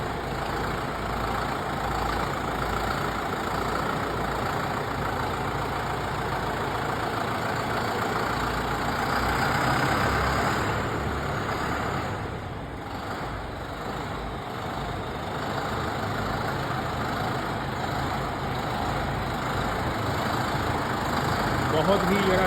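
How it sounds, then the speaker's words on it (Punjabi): A Guard World 110 hp turbo tractor engine idles steadily, a continuous low diesel rumble with slight dips in level, close and loud throughout with no talk. "ਔਰ ਟਰੈਕਟਰ ਦਾ ਸਾਊਂਡ ਚੈੱਕ ਕਰੋ।"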